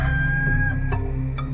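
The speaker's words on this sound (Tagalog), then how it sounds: "siya namang pagtilaok ng manok" A rooster crows in a dramatized Tagalog Bible reading: one sustained, clear crow over a low background music bed, close and fairly loud.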